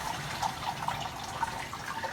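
Water poured off washed white rice in a kitchen sink, a soft steady trickle with faint drips and splashes, quiet and close, with no talking.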